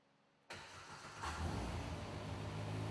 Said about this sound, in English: start the engine and allow it to idle for 2 to 3 minutes